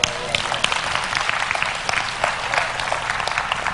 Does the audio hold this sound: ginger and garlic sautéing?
no